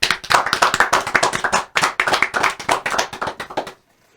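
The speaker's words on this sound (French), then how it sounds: "on vous applaudit" An audience claps in dense broadband bursts for nearly four seconds, a steady, close round of applause that cuts off abruptly into silence.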